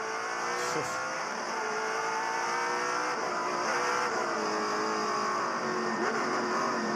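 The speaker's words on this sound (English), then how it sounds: "They've got well over 650 horsepower, a lot of these cars, so they erupt into life in first gear." A pack of touring race cars with over 650 horsepower launches from the start in first gear, high-pitched engines accelerating hard, a dense continuous wall of revving sound throughout.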